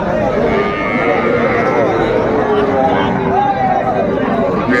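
Young bulls and calves at a rural cattle market in Dinajpur low and bellow with drawn-out moos. The crowd chatters and people talk nearby throughout.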